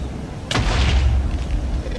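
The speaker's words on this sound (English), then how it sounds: "For it to explode into many explosions." A Minecraft Iron Man smart bomb detonates in one sudden deep boom followed by a rumbling, crackling tail that fades slowly.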